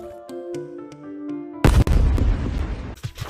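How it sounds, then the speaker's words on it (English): A sudden loud explosion effect in a One Piece ability game bursts out after a short musical passage, then a long rumbling roar trails on with a few sharp cracks near the end. "At this point, I was starting to lose motivation, so I just added an explosion effect."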